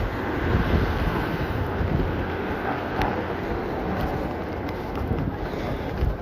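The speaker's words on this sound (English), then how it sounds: "this area here is always very fucking windy." Strong wind in London buffets and roars against the microphone, a constant low rumbling gusty noise that continues steadily without any voices.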